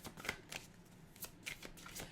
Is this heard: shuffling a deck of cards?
yes